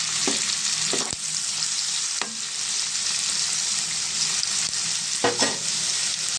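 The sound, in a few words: onions with salt and turmeric frying in oil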